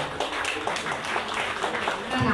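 Audience applause at the Aparajita Season 2 mega final stage show: a steady wash of many hands clapping together, dense and continuous throughout, with crowd noise mixed in.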